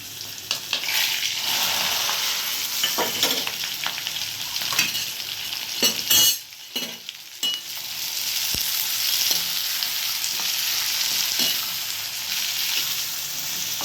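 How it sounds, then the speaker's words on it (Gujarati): Garlic tempering sizzles in hot oil for a Gujarati dish while a spoon stirs and scrapes the pan, with a steady hiss broken by short clattering strokes. "લસણનો વઘાર બહુ સરસ આવે"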